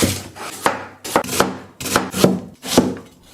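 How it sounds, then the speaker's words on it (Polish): A knife chops onion on a cutting board in a steady series of close, crisp thuds, roughly seven strokes grouped in quick pairs with short pauses between. "posiekaj cebulę."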